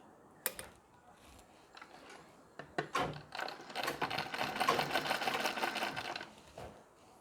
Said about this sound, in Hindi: इसके बाद सिलाई लगानी है, थोड़ा सा पक्का कर लेना है।